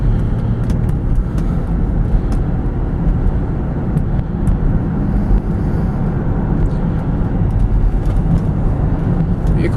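Cabin of a 2000 Buick LeSabre on a test drive: a steady, muffled low road and engine rumble with tire noise, constant and fairly loud throughout, with no talk.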